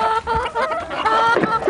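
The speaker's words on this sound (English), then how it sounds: "This is our big coop with about 60 birds in there." Chickens cluck in a large coop holding about sixty birds, a steady overlapping chorus of calls close by with no talking.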